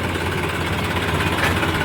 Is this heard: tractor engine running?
yes